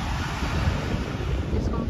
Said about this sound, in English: the wind is like so windy today